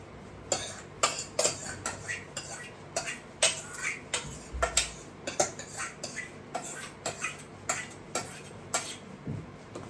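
Milk being stirred in a metal pot to cool it after boiling, a spoon knocking and scraping against the sides in a steady run of sharp clinks and taps, close and fairly quiet.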